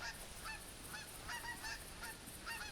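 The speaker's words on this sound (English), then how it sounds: "flock Canada geese just going over" A flock of Canada geese flies overhead, honking in repeated overlapping calls at a moderate distance over steady background hiss.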